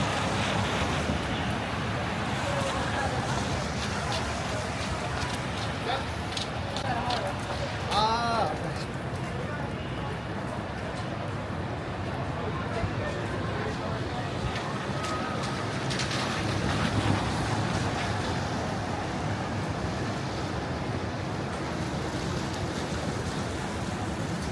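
Steady, roaring wind buffets the microphone during a heavy snowstorm on the streets of Midtown Manhattan, continuous and loud throughout, with a person talking underneath.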